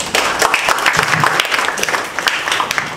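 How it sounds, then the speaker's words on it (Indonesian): Dense, steady applause rises from an audience at the opening of a lawyers' training class, many hands clapping together for a few seconds with little talk over it. "Tepuk tangan."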